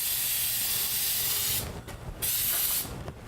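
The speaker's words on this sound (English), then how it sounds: "spray a generous coating right on them" A hissing aerosol lubricant spray on garage door springs in several bursts, with short pauses between them, close and fairly loud.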